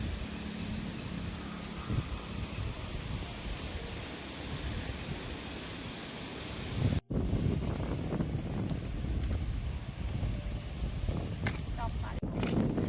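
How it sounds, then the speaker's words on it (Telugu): Strong wind buffets the microphone in a continuous low roar with rushing gusts in an open field; a brief cutout midway, then the blowing continues just as hard. "ఫుల్గా గాలి వస్తుంది"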